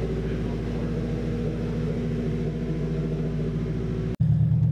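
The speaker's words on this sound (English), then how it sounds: "we're trying to get it to just idle right with the new injectors" A turbocharged Honda engine fitted with new injectors idles steadily, a close, constant low rumble with a regular pulse, then a brief cutout and a slightly louder, deeper idle resuming at the end.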